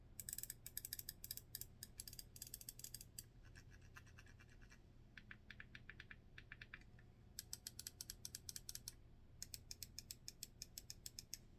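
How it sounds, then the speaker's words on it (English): HyperX Pulsefire Haste gaming mouse with TTC Gold micro switches, clicked in quick rapid bursts of crisp, close, faint ticks separated by short pauses, with no voices. "let's just hear what everything in the mouse sounds like"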